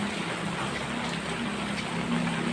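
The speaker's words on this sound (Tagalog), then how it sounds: "Malakas talaga yung ulan." Heavy rain pours down steadily, a dense, even hiss of drops drumming on surfaces and umbrellas, continuous and fairly loud with no break.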